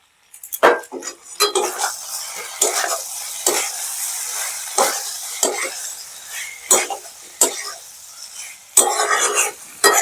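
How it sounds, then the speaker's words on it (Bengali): Fried spice mix is stirred into a vegetarian pumpkin curry, kumror chokka, in a pan, with a spoon scraping and clattering in irregular loud strokes over a soft continuous sizzle, close and alone. "এই ভাজা মশলাটা দিয়ে আমি এবার লাস্টে বন্ধ করে দেবো। পুরো মশলাটা আমি দিয়ে দেবো এতে, দিয়ে এবার ভালো করে মিশিয়ে দেবো।"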